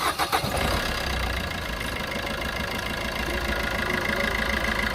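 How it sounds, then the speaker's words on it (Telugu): A 2019 Maruti Suzuki S-Cross Delta diesel car starts with a few quick cranking bursts, then settles into a steady, smooth, close idle. "ఒకసారి ఇంజిన్ అయితే స్టార్ట్ చేస్తున్నా, సౌండ్ ఎలా ఉంది ఏంటన్నది ఒకసారి గమనించండి"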